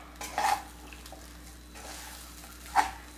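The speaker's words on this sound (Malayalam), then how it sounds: "നന്നായിട്ടൊന്ന് മിക്സ് ചെയ്തെടുക്കാം." A spoon scrapes and clinks in a pan while soya chunks rice is mixed with fried curry leaves and dried chillies: two distinct metallic scrapes, early and near the end, over a quiet background.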